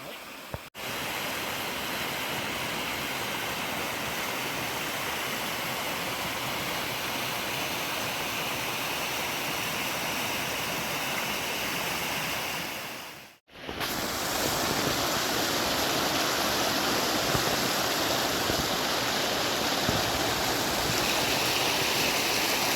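Fast-running water rushes through a gold mining sluice set up in the Maine wilderness, a steady, loud broadband wash that continues unbroken for the whole stretch apart from one brief dropout midway.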